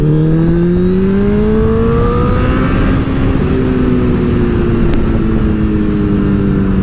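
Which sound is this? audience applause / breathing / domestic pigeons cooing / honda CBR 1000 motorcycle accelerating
honda CBR 1000 motorcycle accelerating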